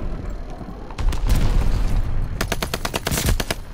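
Rapid bursts of gunfire from a shooter video game, loud and close, with dense automatic volleys stacking into a heavier sustained barrage near the end.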